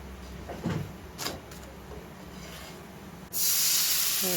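Water added to a hot pan while a paratha with nigella seeds cooks, bursting into a loud, steady steam hiss near the end after a few quiet kitchen clatters.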